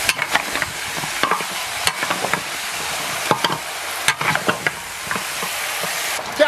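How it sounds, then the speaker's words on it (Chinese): Braised beef hooves stir-fried in a wok with beef, garlic, Sichuan pepper, chili and dry-pot sauce: a loud continuous sizzle broken by repeated scraping clanks of the spatula tossing the food. "翻炒入味。"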